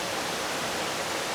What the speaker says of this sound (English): And then the waterfall's just there, but it's quite a small waterfall